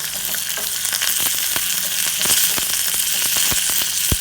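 Hing and cumin seeds sizzle and crackle in hot oil for tempering, a dense, steady frying hiss close up with scattered sharp pops throughout.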